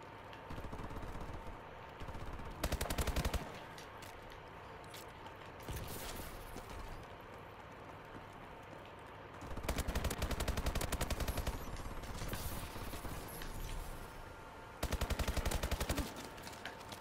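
Bursts of AK-12 automatic rifle fire ring out in Call of Duty Advanced Warfare, loud rapid volleys of a second or so repeating between quieter stretches of game noise.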